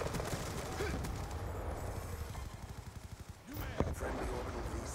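Rapid bursts of video game gunfire crackle through a busy battle soundscape in Black Ops 2 team deathmatch on Nuketown, with a sharp rhythmic volley near the middle and scattered shots after.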